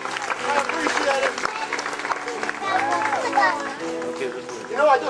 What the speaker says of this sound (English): Let's give Joe a big round of applause.